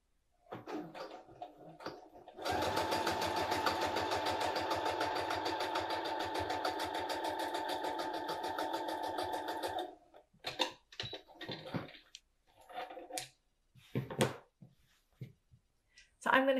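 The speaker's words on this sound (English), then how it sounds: "So I'm going to continue sewing my pockets." Sewing machine stitching fabric pockets for a tool caddy, a steady fast mechanical run lasting about seven seconds, bracketed by brief handling clicks and quiet talk before and after.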